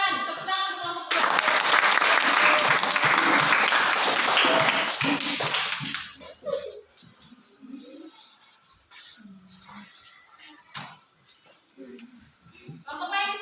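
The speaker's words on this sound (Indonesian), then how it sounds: "Tepuk tangan untuk kelompok 2." A classroom audience applauds a presenting group with a dense burst of clapping that runs about five seconds and then stops abruptly, followed by scattered talk and a few taps.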